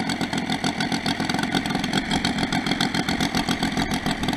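A Saito FG90 four-stroke engine on a TF Corsair model plane idles low and steady at close range, with a rhythmic, even putter throughout and no talking.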